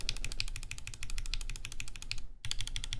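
Rapid, steady typing on a mechanical keyboard with Gateron Ink V2 switches, crisp clacky keystrokes close up, with a brief pause before the typing resumes.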